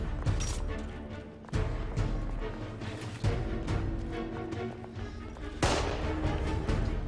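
Shooter combat in The Order: 1886 on PlayStation 4: repeated sharp gunshots and crashing impacts at irregular intervals over a loud, dense battle mix, with no talk.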